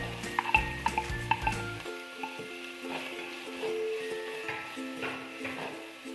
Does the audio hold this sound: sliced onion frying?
yes